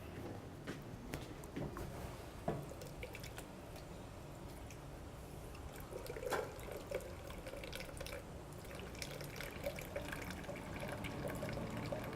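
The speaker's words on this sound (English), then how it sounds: "I'm going to step out and just grab some water in here" Water runs steadily from a tap into a container, a faint continuous rush with small splashes and drips, heard alone in a quiet room.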